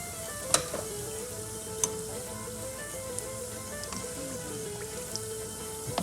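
Sicilian arancini rice balls fry in oil with a quiet, steady sizzle, broken by a few sharp pops and crackles, close and alone without talk.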